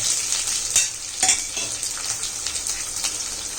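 Dried red chillies tempering in hot oil with mustard seeds and curry leaves, a steady loud sizzle with a few scraping stirs of a spoon against the pan, no talking.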